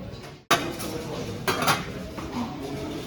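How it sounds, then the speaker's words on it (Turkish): Steel pots and pans clank and clink as they are handled in an IKEA store, a sharp metallic knock followed by steady rattling and a few brighter clatters, close and fairly loud with no talking. "Böyle tencereler de gelmiş bu arada. Çelik tencereler."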